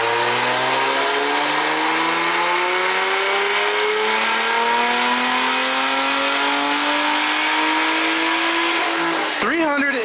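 A Lotus Emira with a 3.5 V6 and JB4 tune on map 0 revs hard, its engine note climbing steadily and loudly through the rpm range for about nine seconds before cutting off abruptly.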